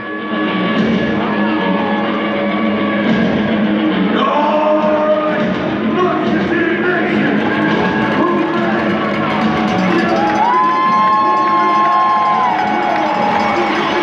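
A loud ice hockey arena crowd cheers and roars as the team takes the ice, with whoops and shouts rising over a continuous wall of noise and a high whistle-like tone partway through.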